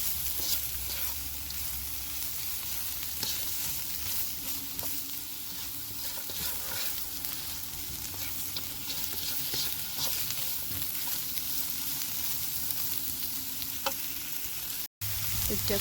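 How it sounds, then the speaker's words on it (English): A bay leaf and aromatics sauté in a pan with a continuous soft sizzle, with occasional light stirring clicks and scrapes. The sound stays quiet and steady throughout, and no one speaks. "Just gonna saute it until fragrant."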